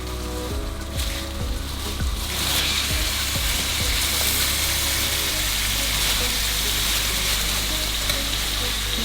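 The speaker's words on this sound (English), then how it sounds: "it is now time to add the mince to the onions" Minced meat frying with browned onions in a pan, a loud continuous sizzle with a few early thumps and scrapes as the mince goes in, under a low steady hum.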